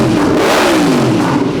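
A Yamaha MT-10 four-cylinder motorcycle revs hard at a showroom. The engine roars loud and close, one continuous rev whose pitch sweeps up and then falls away.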